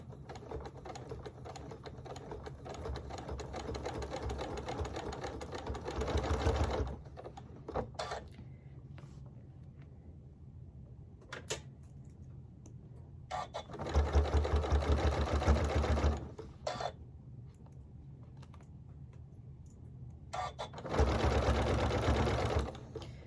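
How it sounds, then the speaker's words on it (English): Three bursts of a sewing machine motor whir and rattle as quilt blocks with t-shirt sashing are stitched, each run lasting a few seconds, with quieter handling and faint clicks between them. "I prefer to machine stitch. So I'm just going to put my needle down, and I'm going to just start stitching."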